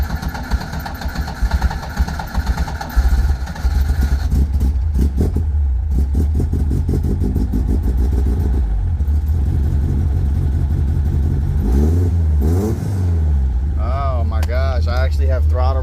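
A 1972 Toyota Corolla TE28 engine, freshly worked on at the carburetor, idles roughly up close and then revs in several rising and falling bursts of throttle, loud and continuous, with a person speaking over it.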